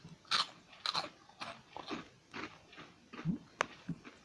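Crisp BBQ-flavoured Transform A Snack hoops crunch as someone bites and chews them close up, giving a series of sharp, irregular crackles over several seconds with no talk.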